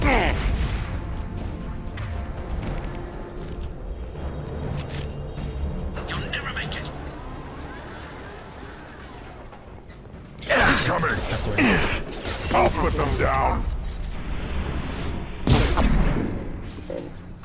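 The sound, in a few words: gunfire in a video game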